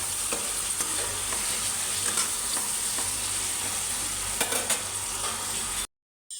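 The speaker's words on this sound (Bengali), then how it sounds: "টমেটো দিয়ে দিলাম, টমেটো যত কষে আনি।" Tomatoes frying with spices in a pan, being stirred down for a prawn dish: a steady, close sizzle with scraping stir strokes throughout, cutting off abruptly near the end.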